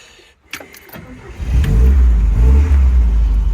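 A 1971 MGB Roadster with a new engine cranks with a few sharp clicks, then catches and settles into a loud, steady low rumble close by.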